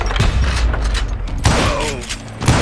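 Gunfire from the Western shooter video game Call of Juarez: Gunslinger, a loud, dense burst of shots and booms that carries on across the whole moment, with a heavy thump near the middle.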